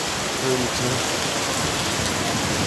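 Steady rain pours down over a street market in Macau, a dense continuous hiss filling the scene, with a brief faint voice underneath.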